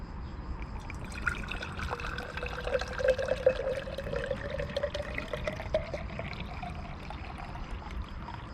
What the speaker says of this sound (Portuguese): Vamos então colocar a água neste frasco para conseguirmos ver como é que ela está.